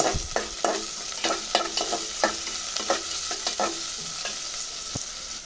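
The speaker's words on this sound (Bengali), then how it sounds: "ভেজে নেব এখন" Chopped onions frying with garlic in a cooking pot, a constant hiss of hot oil broken by repeated sharp scraping knocks of a spoon stirring, close and fairly loud, no talk.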